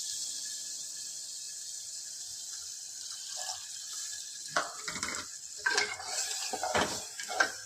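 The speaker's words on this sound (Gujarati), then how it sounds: "એમાં હું જરૂર મુજબ પાણી નાખીશ" Water is poured into a whole-onion curry in a pressure cooker, starting as a faint background hush, then splashing and clinking against the pot in several close bursts without any speech.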